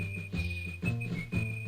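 Characters in the video game King's Quest 5 whistle a catchy tune, a steady high tone carrying over a bouncy, rhythmic music backing in short repeated phrases.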